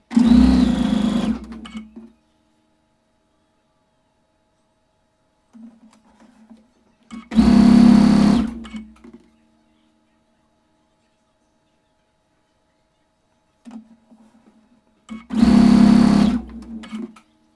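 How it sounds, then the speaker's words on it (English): Sewing machine stitching two halves of a quarter-square-triangle patchwork block for a framed Ohio Star quilt, in three separate loud bursts of about two seconds each, with brief softer handling noises between them. "So we're just going to sew the two halves together"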